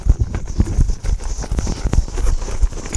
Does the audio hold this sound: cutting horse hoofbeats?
yes